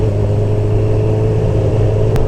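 A Honda CB1000R Black Edition motorcycle fitted with an aftermarket exhaust can idles and blips its throttle, giving a steady, close, low engine rumble with a brief sharp burst near the end.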